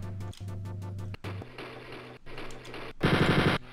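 Machine gun fire at the Hitler boss in Wolfenstein 3D, rapid retro-game shots in fast repeating bursts with brief pauses, ending in a louder, denser burst, close and clear.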